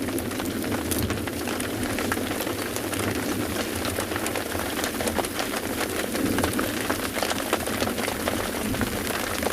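Steady rain falls at a sunrise safari in Africa, a dense, even hiss of drops on surfaces filling the whole stretch, loud and close with no voices.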